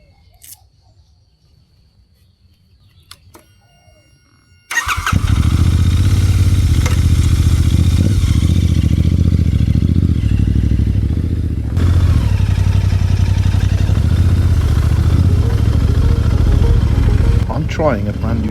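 A scooter engine starts abruptly after some quiet handling, then drones loudly and steadily while being ridden up Doi Inthanon, with a brief shift in tone partway through.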